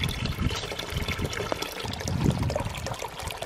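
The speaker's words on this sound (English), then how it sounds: "It's gonna fill up, and we're gonna see what color the water comes out as" Natural spring water pours from a pipe into a filling bucket, giving a steady close splashing trickle that runs without pause and without voices.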